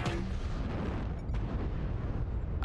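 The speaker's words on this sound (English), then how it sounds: "Artillery strike. I'll drop an Arty on his face." Artillery strike in MechWarrior Online landing as a loud, deep rumbling barrage of booms, with a sharper blast cracking through about halfway, rolling on steadily with no voices.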